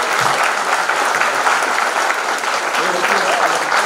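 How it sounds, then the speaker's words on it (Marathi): Loud, dense applause fills a hall at a Pune Zilla Parishad function, steady clapping from a large audience that holds evenly throughout without pause. "जोरदार टाळ्या झाल्या पाहिजे."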